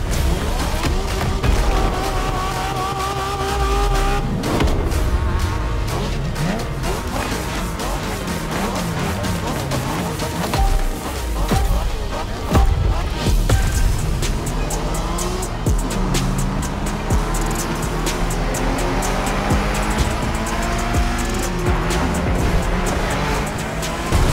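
Cars street race in The Crew Motorfest, engines revving up and down through gear changes, tires squealing and skidding in bursts, loud and close throughout.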